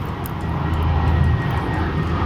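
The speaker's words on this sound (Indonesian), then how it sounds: "Pesawat lewat udah kayak angkot ya, rame banget." A fixed-wing airplane passing overhead near Halim airport in Jakarta, its engine making a loud, steady roar that holds constant for the whole stretch, with no talking over it.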